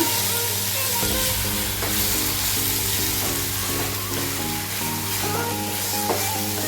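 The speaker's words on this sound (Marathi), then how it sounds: "अद्रक जे आपण किसून घेतलंय ते टाकूया. तेही अगदी एकजीव करूया." Grated ginger is stirred into a sizzling amla mixture in a pan, a steady close frying hiss with soft scraping stir strokes over a constant low kitchen hum, no voices.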